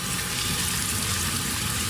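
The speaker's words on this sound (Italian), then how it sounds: "Prendo 180 g di riso basmati e vado a sciacquarlo." Basmati rice being rinsed under a running kitchen tap, a steady close gush of water splashing into a sink with no talking.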